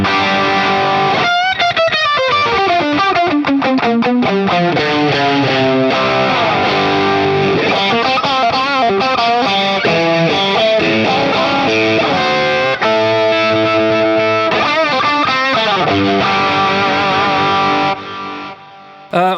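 Electric guitar through an Axe-FX 1959 Marshall amp model with an 808 overdrive boost, playing a fast distorted lead with bends and quick runs, loud and continuous with no talk.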